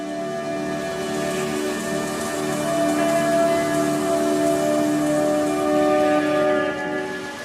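Steady rain falls on a jungle canopy in the Amazon, a dense, even hiss of drops that stays close and constant throughout, with sustained tonal music humming beneath it.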